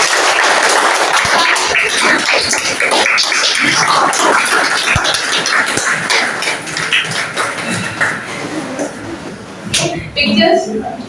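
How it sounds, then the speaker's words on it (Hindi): An audience at a Sainik school interaction session claps loudly and continuously, a dense crackle of many hands that thins toward the end while voices talk over it. "एक बार जोरदार तालियां।"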